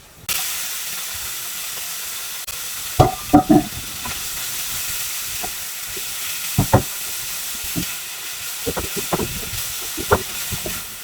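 Garlic with sesame oil, salt and pepper is stirred for dolsot bibimbap, giving a steady soft sizzle broken by a few sharp scraping clinks of the spoon against the pan, close and alone.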